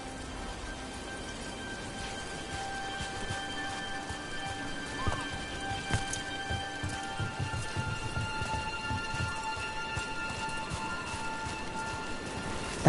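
Steady rain falls throughout a scene in the video game Dragon Age: The Veilguard, a constant hiss with scattered drips and knocks rising slightly in the middle, with no voices over it.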